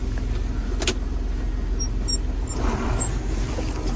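John Deere tractor with 9938 engine hours, started cold with a high gear still engaged, drives off with a steady low engine rumble throughout; no talk.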